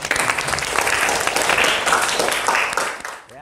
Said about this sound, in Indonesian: Kita bisa berikan tepuk tangan untuk Mas Darva.